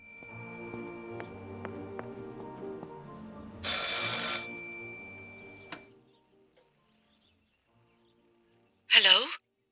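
A telephone rings in the video game Martha Is Dead as a steady tone held over quiet game ambience, with a brief rushing burst midway and a short chirp near the end.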